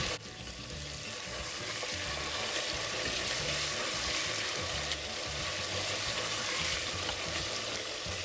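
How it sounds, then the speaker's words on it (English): Hot pepper mixture for Nigerian jollof rice fries in a pot while being stirred, a steady, loud broadband sizzle with bubbling and scraping that continues unbroken throughout. "So I'm going to go ahead now to stir them all together."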